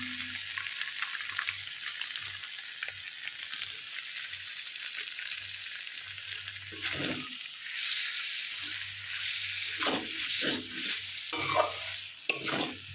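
Eggplant cooking in a pan with powdered milk is stirred steadily, a spatula scraping in repeated strokes over a soft, continuous sizzle, close and moderately loud with no voices.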